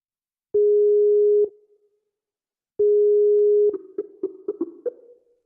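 A Skype call tone plays two long, steady electronic beeps separated by a pause, the second breaking into a quick burst of short clicks and blips, clear against silence.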